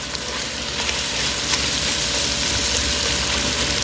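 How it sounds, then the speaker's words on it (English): Onion frying in a pot over high heat for tortellini soup, a dense, loud, continuous sizzle with faint stirring clicks throughout. "On a high heat. I'm going to put the onion in here. And let that start to cook up."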